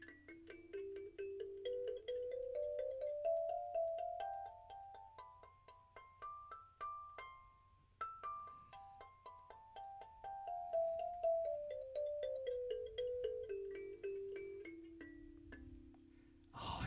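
A small-keyed kalimba plays a slow ascending run of plucked, ringing tines, then descends back down, each note chiming clearly and sustaining in a quiet room with no voices.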